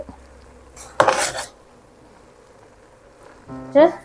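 Rice goes into a cooking pot and gets stirred, heard as two short, close metallic clinks and scrapes of a utensil against the pot with quiet between them.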